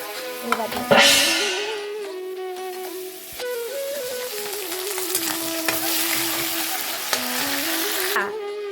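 Pachla, sliced banana stem coated in rice flour, fries in hot oil with a steady close sizzle and occasional stirring scrapes, while someone talks throughout.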